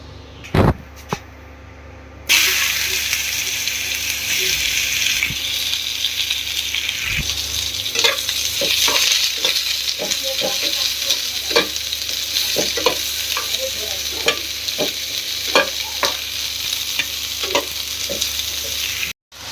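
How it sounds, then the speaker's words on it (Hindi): Grated radish thichua frying in hot oil, a steady broadband sizzle running throughout with frequent sharp crackles and pops, fairly loud and close, after a brief quieter start; no talking. "यहाँ पे हो रहा है तेल गरम।"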